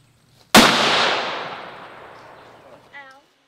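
A single loud custom 7mm-08 rifle shot cracks close by and rolls away in a long echoing tail across open hunting ground, followed by a brief voice.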